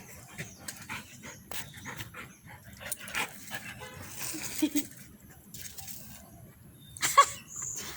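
Dogs pant quickly and softly nearby in short rhythmic bursts, with occasional faint whimpers and quiet background movement.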